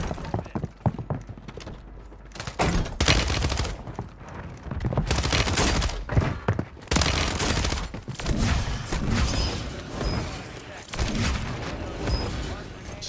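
Rapid gunfire and explosive booms from a grenade launcher in Call of Duty Warzone on Rebirth Island, loud repeated bursts and blasts over about thirteen seconds with a dense, cluttered battle mix.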